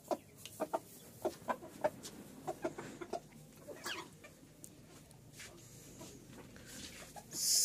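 An Indian Sultan chicken clucks nearby in a series of soft, rhythmic clucks, faint and close, trailing off into quiet background.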